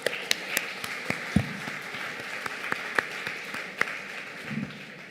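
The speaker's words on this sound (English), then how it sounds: "that deserves a huge round of applause for yourselves" Scattered applause from an audience at a women's business event in Bengaluru, a moderate patter of claps with a few sharper hits and low murmuring underneath, fairly steady for several seconds.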